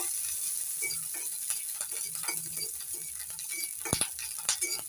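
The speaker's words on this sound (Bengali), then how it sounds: "অনবরত নাড়াচাড়া করে ভেজে নিচ্ছি লঙ্কাগুলো" Green chilies sizzle steadily in hot oil in a pan, with frequent scrapes and clinks of a spatula as they are stirred constantly, close up.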